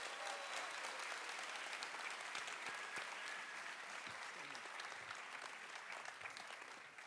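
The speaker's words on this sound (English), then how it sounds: "Can we give Anna another big round of applause?" Audience at a college of engineering welcome event for incoming students breaks into sustained, dense applause, a steady wash of clapping from a large crowd that holds throughout and tapers slightly at the end.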